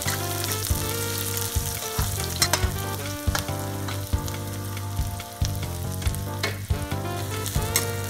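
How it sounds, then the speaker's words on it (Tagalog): Garlic and onion frying in a pan, a loud close sizzle with regular scraping strokes of a spatula and light clinks against the metal, with a steady hum underneath. "Haluin lang ulit natin ito upang maluto ang ating onion at ating garlic."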